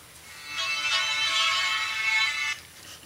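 A phone ringtone with a somewhat classical melody plays as a bright, clear run of tones for about two seconds before cutting off, heard alone in a quiet room.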